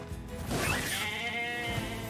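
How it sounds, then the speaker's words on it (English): A single loud, close sheep bleat from a video game, a wavering drawn-out cry lasting about a second. "No need to kill any of these sheep."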